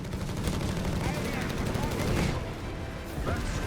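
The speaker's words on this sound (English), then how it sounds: "Wipes the machine gun, catches it directly with a perfectly fired 105mm high explosive shell there." Gunfire and an explosive blast from a 105mm high explosive shell hitting a machine gun position in the Company of Heroes 3 strategy game: dense crackling shots and a heavy impact layered into continuous battle noise, with commentary running underneath.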